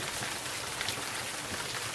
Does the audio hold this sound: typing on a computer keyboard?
no